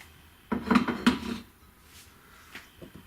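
Glass kombucha jar getting its lid set on, a couple of close clattering knocks and scrapes clustered in about a second, followed by a few faint small taps in an otherwise quiet room.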